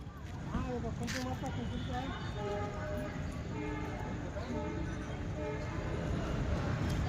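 A steady low rumble of a Visakhapatnam passenger train at Solapur railway station, with people talking over the continuous background noise.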